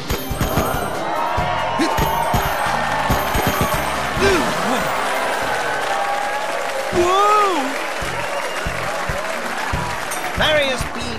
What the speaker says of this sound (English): Let's give another round of applause to Gia and Alex, Melman and Gloria, Marty